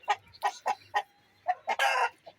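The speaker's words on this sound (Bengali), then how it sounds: "আর মোরগটা ডাকতেছে।" A rooster close by gives a series of clucks and short calls, building into a loud crow near the end, with a brief call after, alone without talk.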